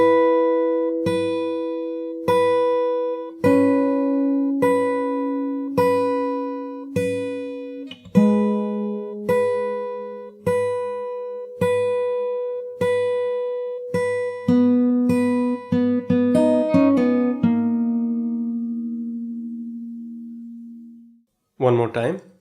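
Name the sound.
guitar playing intro of a song slowly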